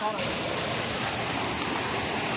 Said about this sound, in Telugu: అదిగోండి వాటర్ ఫాల్స్ ఇలా పడతా ఉంటాయి